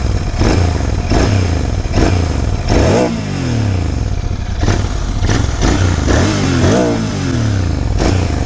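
Royal Enfield Continental GT 650 twin with a stock exhaust, revving hard in repeated blips: loud, close throttle bursts rise and fall about every second over a steady deep idle rumble, with no talking.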